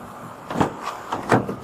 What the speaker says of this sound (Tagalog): Sandali lang, buksan mo lang ang pinto.